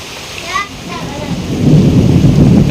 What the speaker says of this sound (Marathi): पाऊस सुरू झाला खूप जोरात पाऊस यायला लागला